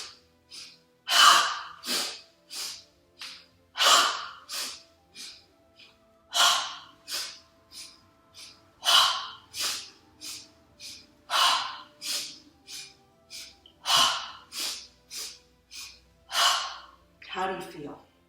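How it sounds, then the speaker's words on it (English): Breath of Joy yoga, a standing three-part breath, with sharp stepped inhales and forceful voiced "ha" exhales repeating in a steady rhythm, about a dozen close, loud breath cycles. "So what you do with the Ha breath is you just stand, and it's a 3-part breath."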